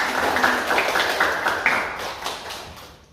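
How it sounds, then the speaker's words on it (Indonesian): A small high-school class claps together in a classroom, a brief cluster of sharp hand claps that thins out and fades within a few seconds. "Oke, kita beri tepuk tangan."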